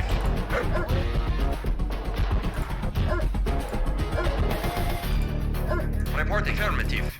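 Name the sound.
attack dogs barking in Command & Conquer: Red Alert video game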